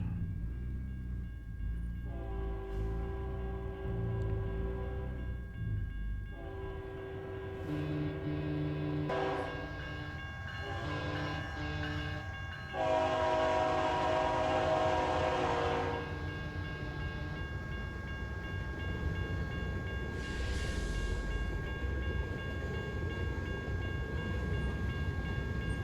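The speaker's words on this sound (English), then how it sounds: "It's a long train." A long train passes a flashing road crossing in American Truck Simulator, its horn sounding in several loud, sustained blasts over a steady rumble of rolling rail cars.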